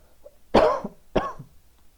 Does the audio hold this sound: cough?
yes